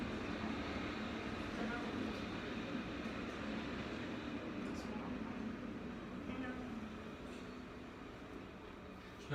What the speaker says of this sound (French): Il y a beaucoup de trains pendant mon cours, je trouve.